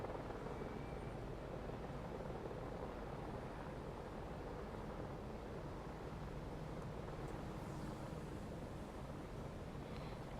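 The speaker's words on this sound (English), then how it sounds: "I can hear a helicopter and I can never see that thing." A helicopter flies somewhere overhead near the Riviera Line railway, giving a steady, even rumble of rotor and engine noise that holds at the same level throughout, with no voices.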